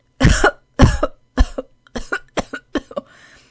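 A woman coughs dryly in a series of short, hacking bursts, the first few louder and the rest quicker and weaker.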